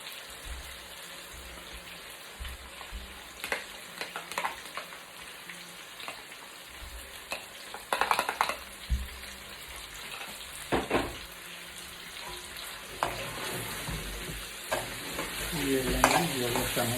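White chicken karahi, a Pakistani dish, sizzles steadily in the pan as yogurt is stirred in. Close scraping stir strokes rise in louder bursts over the continuous frying hiss, with no speech.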